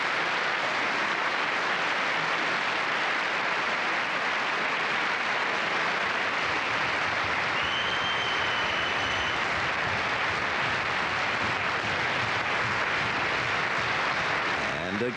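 A large opera house audience keeps up dense, sustained applause at a gala concert, a continuous roar of many hands filling the hall, steady and undiminished throughout.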